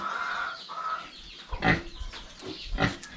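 Pigs kept on a farm grunt and squeal, with two loud close grunting bursts in the second half after a higher squeal early on. Farmyard background noise runs under them, and no one talks.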